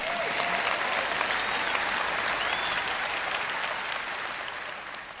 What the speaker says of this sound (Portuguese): Eu sei que estão mais animados do que esse aplauso.